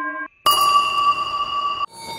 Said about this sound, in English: And these bell jingles.